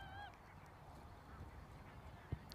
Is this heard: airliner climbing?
no